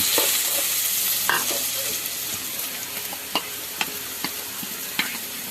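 Vegetables with onion and red pepper sizzle in a pan with a constant bright hiss, while a spoon stirs with intermittent scraping clicks and taps close by.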